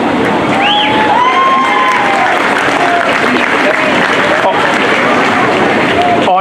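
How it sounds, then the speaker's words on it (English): An energetic protest crowd at a pro-Hamas rally in Melbourne cheers, claps and shouts continuously, a dense, loud wall of voices with occasional whoops rising above the roar throughout. "This is such an energetic crowd protesting, raising their voice"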